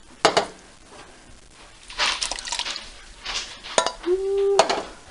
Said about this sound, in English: So now in goes in 2 cans of diced tomatoes.